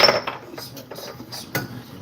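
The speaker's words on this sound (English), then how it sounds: "saucepan, frying pan, saucepan here for the gravy" Saucepans and a frying pan are handled in a home kitchen, giving a few sharp metallic clanks and knocks at close range.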